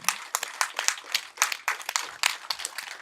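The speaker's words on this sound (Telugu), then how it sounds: "పత్రికారికి వినపడాలా కొట్టాలి చప్పట్లు" A film team claps together for a spiritual teacher in a steady flurry of sharp, close hand claps lasting the whole stretch without talk.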